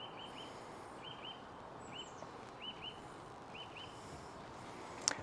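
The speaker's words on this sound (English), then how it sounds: "I like the view and the sounds from the birds" Faint, repeated two-note bird chirps come at intervals over a steady outdoor hiss, with no talking.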